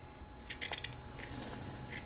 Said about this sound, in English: take your scissors and you just clip